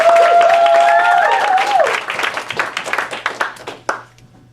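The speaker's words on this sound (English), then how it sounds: "please give us a big round of applause for this" Audience applause at a live improv comedy marathon, a burst of clapping and cheering from a crowd that thins into scattered claps and fades out after a few seconds.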